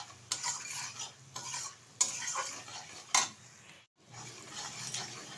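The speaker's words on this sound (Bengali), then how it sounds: "কষিয়ে নিচ্ছি" Chicken is sautéed with salt in a pot while a utensil scrapes and clinks against the metal in repeated strokes. A soft sizzle runs underneath, there is a brief pause near the end, and no one speaks.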